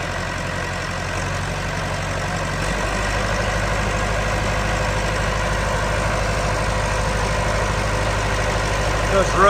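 A 1993 Vermeer 1250BC machine's engine runs at a steady low rumble, with its tone shifting and settling into a deeper, louder drone partway through.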